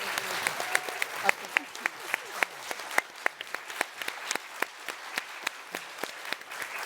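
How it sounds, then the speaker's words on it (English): An audience at a panel discussion applauds with steady, moderately sized clapping that continues evenly throughout, a word briefly spoken at the start. "a round of applause for this amazing group"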